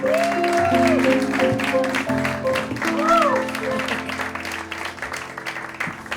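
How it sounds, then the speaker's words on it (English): Audience applause fills a concert hall at a 2022 cabaret song performance, a steady wash of clapping that runs the whole stretch beneath sustained musical tones and some voices. "while you're still clapping"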